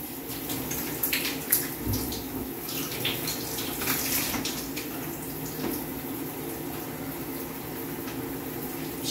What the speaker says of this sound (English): This is taking a shower.